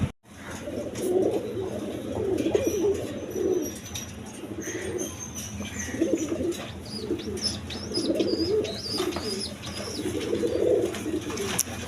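A pair of Gola pigeons cooing steadily in repeated low, throaty phrases at close range, with faint chirps and light background noise and no talking.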